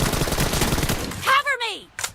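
Rapid automatic gunfire rattles in PUBG, a loud, close burst of shots that cuts off abruptly, with a short trailing report and a voice heard briefly near the end.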